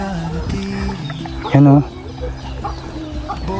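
Free-roaming farm chickens cluck close by, with a short loud squawk partway through, under a person talking.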